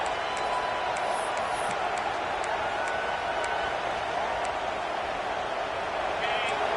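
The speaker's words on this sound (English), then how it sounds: "Here comes this home crowd as the defense tries to get off the field on 3rd down." A steady roar of home crowd noise fills a stadium during an LSU versus Arkansas college football video game, a dense continuous din with faint whistle-like tones on top and a commentator talking over it.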